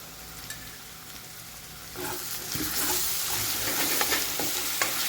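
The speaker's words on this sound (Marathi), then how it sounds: "त्यानंतर ह्यामध्ये मी अद्रक लसूण पेस्ट टाकते।" Ginger garlic paste dropped into hot oil in a pan for a paneer curry, a soft hiss that swells into a steady loud sizzle with stirring scrapes, close up and without talk.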